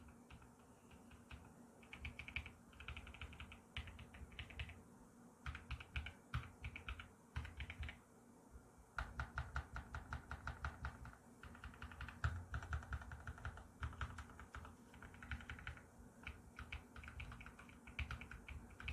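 Steady typing on a mechanical keyboard number pad with linear pink Flamingo switches, soft muted keystrokes in quick uneven runs with a few brief pauses, close by and quiet.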